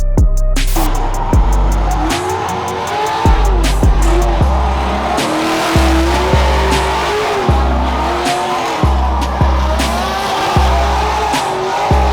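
Car doing a burnout on Falcon tires: loud close engine revving in repeated surges while the tires squeal and skid steadily throughout.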